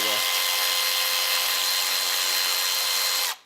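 A Milwaukee FUEL electric ratchet whines and buzzes steadily at close range as it works a stubborn fastener loose, running for about three seconds before cutting off abruptly.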